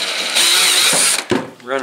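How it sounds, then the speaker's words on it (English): A close, high-pitched electric drill driving a VEVOR wire stripper whines steadily for about a second, stops, then a short clack and a brief voice follow. "The drill on there"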